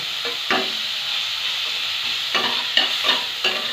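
Onion and garlic paste sizzles in a pan for a Bengali fish curry while a spoon stirs and scrapes through it in irregular close strokes over a steady frying hiss.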